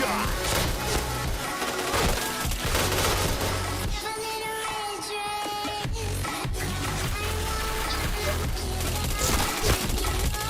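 Video game gunfire crackles in dense, rapid volleys over a continuous game soundtrack, with occasional speech mixed in.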